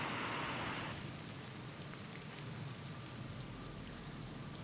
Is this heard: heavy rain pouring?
yes